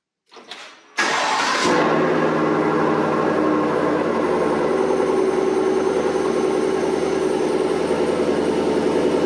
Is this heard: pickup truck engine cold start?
yes